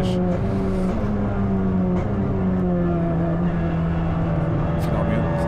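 A Kia Ceed GT Cup race car engine holds a steady drone near 6500 rpm on track, loud and continuous, with pitch shifting slightly as it pulls through a corner.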